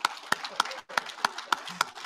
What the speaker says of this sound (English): can you hear the clapping